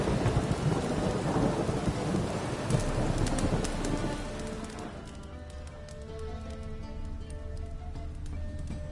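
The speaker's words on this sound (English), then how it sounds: "Must be mad running around in this rain." Rain and rolling thunder in the video game The Witcher, a loud rumbling thunderclap over steady downpour that eases after a few seconds into softer rain with distant chirps.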